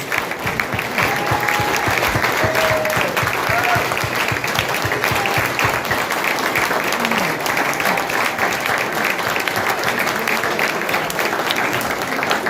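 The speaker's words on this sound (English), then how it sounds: "Let's give you one last round of applause." An audience at a county clerk candidate debate in Utah gives a sustained round of applause, dense and even clapping from many hands that holds steady throughout with little letup.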